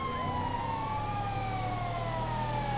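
In GTA 5, an ambulance siren wails close by with sweeping, wavering tones over the constant hum of city traffic.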